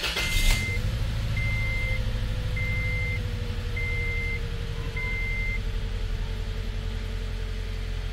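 A 2005-2014 Toyota Tacoma engine idles steadily at close range after a fuel pump replacement, a smooth continuous rumble with a brief clatter at the start and a repeating electronic beep chiming throughout.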